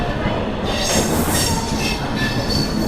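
Intercity SF Express train hauled by a WAP-7 locomotive leaving Vijayawada, a steady loud rumble of rolling wagons with faint wheel squeal throughout, no talk.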